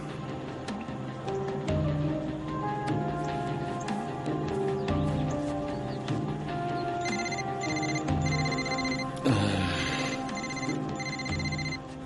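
Telephone ringing in a repeating electronic pattern of bright tones, loud and close, layered over music and background sound from a Tajik-dubbed drama series scene.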